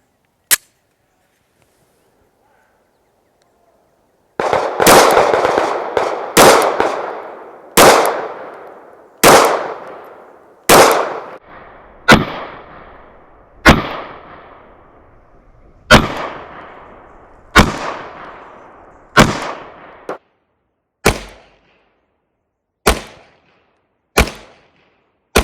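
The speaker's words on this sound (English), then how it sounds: "You hear the shots next door? That's our law enforcement officers. Some of them are qualifying on the range" Police officers qualifying on an outdoor shooting range fire single gunshots, a sharp crack followed by a long echoing decay, repeating about every one to two seconds at moderate distance, with no talk.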